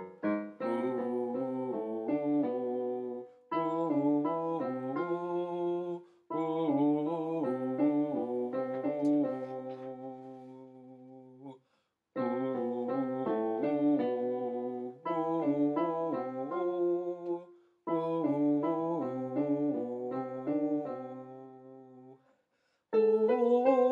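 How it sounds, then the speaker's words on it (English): Choral bass line from the musical Urinetown sung on an "ooh", a smooth sustained vocal melody in phrases separated by short breaths and pauses, with no accompaniment. "you start in with the main melody from Urinetown on an ooh"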